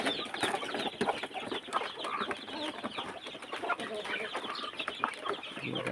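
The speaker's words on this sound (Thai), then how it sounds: "ไก่พื้นบ้านเลี้ยงง่าย" A flock of free-range native chickens clucks and chatters nearby, a busy overlapping stream of short clucks and murmurs with no talking.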